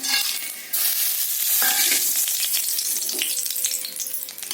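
Whole spices sizzle loudly in hot oil as they are tempered: bay leaf, mace, cloves, cardamom and cinnamon for a mutton curry. A sudden burst of frying jumps up near the start and then holds as a steady crackle, with a few soft stirring clatters.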